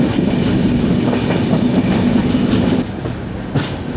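A Rajdhani Express train rolls along the rails near Ernakulam Junction, giving a steady, loud rumble with a low drone and faint clickety-clack throughout, with no voices.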